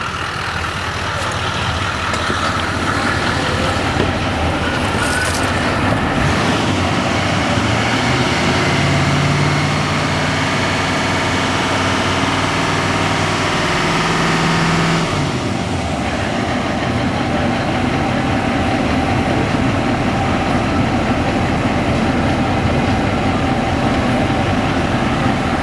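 A car engine runs steadily at idle and is revved up during an A/C recharge, giving a loud, continuous drone with a rising tone in the middle that drops back after about fifteen seconds.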